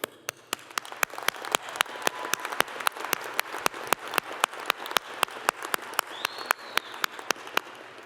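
Applause from the audience at a university honors convocation, heard as scattered, fairly distant clapping with a string of sharp individual claps standing out over the softer crowd patter, continuing steadily with no talk.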